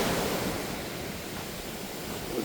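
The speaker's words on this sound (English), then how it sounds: "You take in the waves, listen to the waves." Ocean waves breaking on the shore in the early morning at Baler, Aurora, a steady soft wash of surf with some wind, fairly faint and continuous with no voices.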